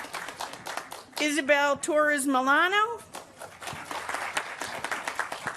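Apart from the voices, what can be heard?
audience clapping at commencement reception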